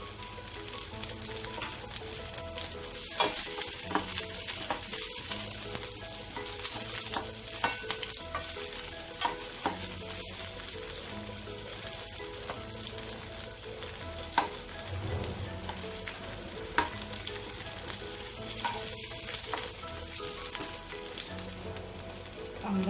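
Onion sautéing in oil with mustard seeds in a pan for a spicy Marathi tiffin vegetable dish, a steady close crackling sizzle broken by repeated stirring scrapes and taps, with no speech.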